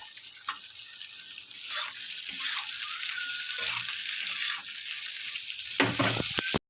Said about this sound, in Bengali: আমার আলুটা হালকা করে ভেজে নিয়েছি